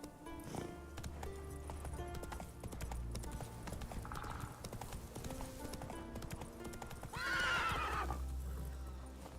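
Hoofbeats of Roach, Geralt's horse in The Witcher 3 video game, clip-clop steadily at a gallop over game music, with a loud whinny near the end.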